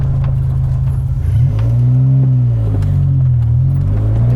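A 160 horsepower UK-spec DeLorean pulls away and accelerates, its engine note dropping at a gear change, then climbing again in a loud, close, steady drone with no talk over it.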